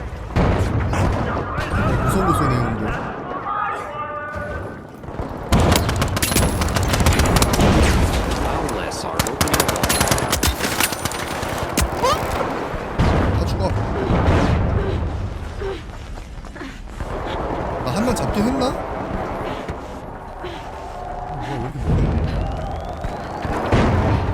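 Gunfire in the video game The Finals rattles in loud automatic bursts and heavy booms, with mechanical clanks between them, under excited voices talking and calling out.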